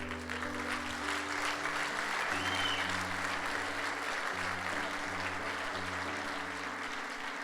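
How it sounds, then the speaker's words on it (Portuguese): A church congregation claps in continuous, moderately quiet applause over steady sustained keyboard chords that shift pitch midway. "Vamos dar um aplauso ao Senhor?"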